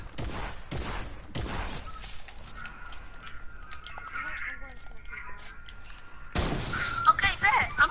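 Shotgun blasts in a video game ring out as a few loud, sharp reports near the start and another burst near the end, with game sounds and a voice talking in between.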